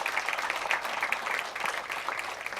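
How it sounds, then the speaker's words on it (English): An audience applauds Dr. Carla Hayden at the close of a leadership talk, a steady, moderately loud patter of many hands clapping with no voices over it. "It's an applause for Dr. Hayden"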